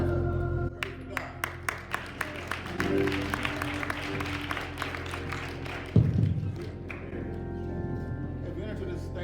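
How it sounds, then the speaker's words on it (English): A church congregation at a Thanksgiving Baptist service claps their hands in a steady rhythmic beat, a room full of people sounding together and fairly close, with voices talking and singing over the clapping. "Everybody have a clap. Have a hand clap."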